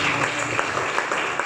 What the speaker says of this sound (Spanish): Aplaude el gran rey.